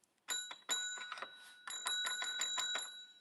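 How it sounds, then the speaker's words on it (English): An old rusty bell rings in repeated quick dings, a rapid run of metallic strikes with a short pause midway, fairly close and clear against a quiet background. "There was an old bell I saw."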